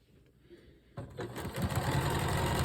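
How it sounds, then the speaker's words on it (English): A sewing machine stitches pieced quilt block sections together with a 1/4 inch seam, starting quietly and then running in a steady, close, buzzing whir that grows louder and continues to the end. "Now what I'm going to do, I'm going to sew these together."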